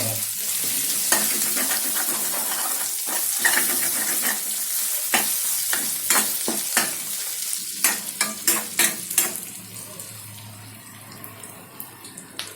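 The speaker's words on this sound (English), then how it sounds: "The frying of this mixture, right? Onions, ginger, and garlic." Loud sizzling of onions, ginger and garlic frying in a hot pan for chicken curry, crackling bursts and stirring scrapes over a steady hiss, with a sharper cluster of pops toward the end.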